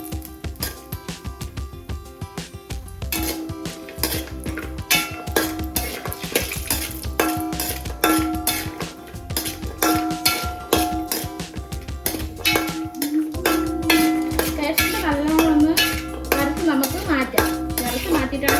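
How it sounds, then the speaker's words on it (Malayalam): Cashew nuts frying in oil over a low flame in a bronze uruli, stirred with a metal spoon: continuous close clanking and clinking against the vessel for many seconds, with music playing underneath. "നമുക്ക് ഇനി കാഷ്നട്ട് ഇട്ട് കൊടുക്കാവേ. ഇനി ലോ ഫ്ലെയിമിൽ നമുക്കത് വറുത്ത് കൊടുക്കാം"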